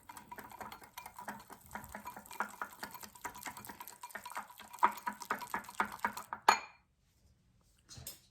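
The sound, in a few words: mixing cocoa powder into warm melted butter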